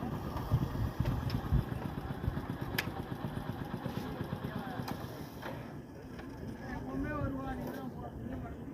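A car drives steadily in fourth gear, its engine a low continuous hum with road rumble underneath, and a person talking over it.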